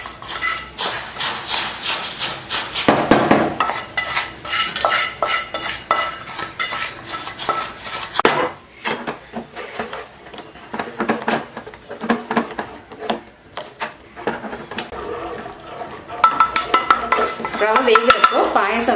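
Semolina being stirred into boiling milk in a pan for payasam: repeated metal spoon scrapes and clinks against the pan, close and busy, easing off midway then picking up again near the end.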